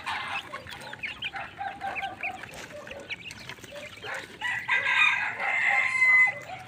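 Young chicks crowd a feeding trough, and their constant clucking and chirping is loud and close. No talk is heard.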